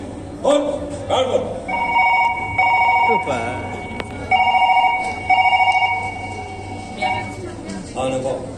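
A telephone rings in repeated electronic bursts, steady and fairly loud, with people talking intermittently over it.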